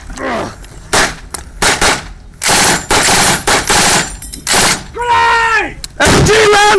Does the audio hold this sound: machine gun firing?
yes